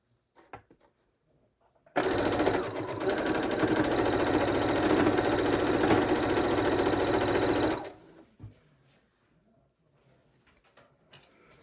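A sewing machine runs steadily at close range, stitching scrap fabric pieces into a quilt block, a loud continuous motorized whir that starts abruptly and stops about six seconds later, leaving quiet handling noises behind.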